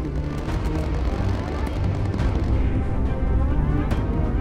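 Deep rumbling booms and heavy low thuds of cannon fire in the video game Bomber Crew roll continuously, echoing at a distance, with a few sharper cracks breaking through.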